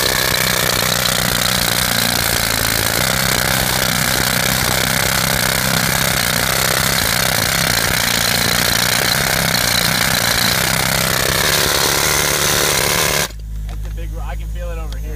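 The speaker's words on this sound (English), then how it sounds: "here we're going to go with some jackhammer action here. That's Jim working the air drill." A pneumatic jackhammer air drill hammers loudly and continuously into rock on a ranch, a dense, harsh rattling that cuts off abruptly near the end, leaving a lower rumble of a running compressor.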